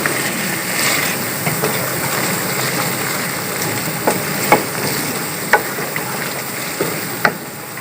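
Chicken Shinwari karahi with cream sizzling in a pan while being stirred, a continuous frying hiss broken by several sharp clicks and scrapes of a utensil against the pan.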